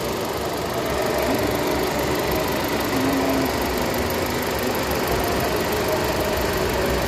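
A Suzuki Swift four-cylinder car engine idles nearby with a steady, slightly knocking mechanical rumble throughout, no speech over it.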